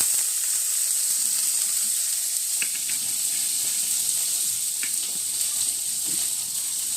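Chili and lentils frying in a hot pan give a steady, close sizzling hiss that holds for the whole stretch, with a few faint clicks and small pops.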